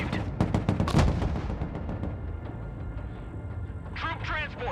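Artillery fire in the video game PeaceKeepers during a solo campaign mission: a rapid cluster of heavy blasts up front that rolls off into a rumbling tail, followed by a radio-style voice.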